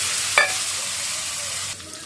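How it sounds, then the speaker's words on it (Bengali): Onions frying in oil in a pan after a tempering of five-spice and a chilli, a close steady sizzle with a sharp clink of stirring near the start. "তারপরে পেঁয়াজগুলো ছেড়ে দিচ্ছি, পেঁয়াজটা একবার ভাজা হয়ে যায়"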